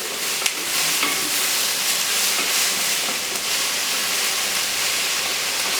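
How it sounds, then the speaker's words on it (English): Onions frying in a pan while being stirred for a Caribbean dish, giving a steady close sizzle throughout with faint scrapes from the stirring and no talking. "So you'll be able to see these onions are breaking down quite nicely."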